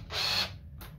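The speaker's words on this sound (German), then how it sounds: "Die Bohrmaschine locker lassen, dass die schwingen kann" A power drill driving a screw hook into place, a short whirring burst of about half a second followed by a quieter second spin, close and alone with a low background hum.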